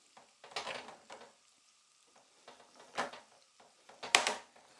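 Shrimp frying in a pan and being stirred and turned with tongs, giving bursts of sizzle and clattering scrapes that come in uneven clusters with quieter gaps between them.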